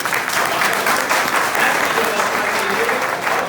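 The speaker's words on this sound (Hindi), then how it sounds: "मैं चाहता हूँ जोरदार एक बार तालियों से" Loud, dense applause from a large audience at a traders' conference in Varanasi, filling the room steadily and close for the whole stretch with no pause.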